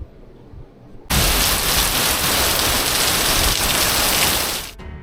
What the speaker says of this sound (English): It really is pouring this morning